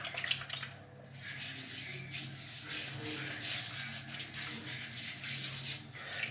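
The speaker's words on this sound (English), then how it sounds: "So I'm just going to get the water out of the soap that's been sitting on it." Water is poured off a shaving soap puck in a tub during a head shave, a steady close rushing and rubbing wash lasting several seconds with no talk.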